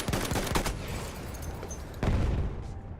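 Video game gunfire crackles through a firefight in which enemy snipers are active, with rapid sharp shots early, a lull, then another loud burst of fire near the end.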